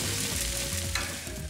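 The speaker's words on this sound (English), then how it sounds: "while the steaks are grilling on this side" T-bone steaks sizzle on a grill grate in a loud, continuous crackling sizzle close up, with no voices.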